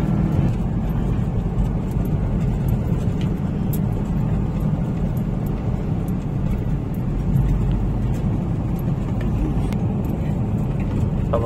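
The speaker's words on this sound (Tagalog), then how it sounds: "Babagal pa ng truck." A truck slows on a rough, broken road in Quezon province, its low engine rumble steady and continuous from inside a moving vehicle, with faint scattered rattles.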